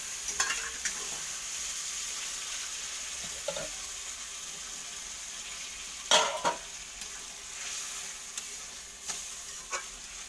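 Poppy seed paste with ridge gourd, potato and onion sizzles softly in a pan, broken by scattered scrapes and clacks of a stirring spoon, a sharper pair of knocks around the middle; fairly faint, no talking.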